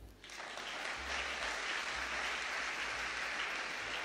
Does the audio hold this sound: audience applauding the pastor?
yes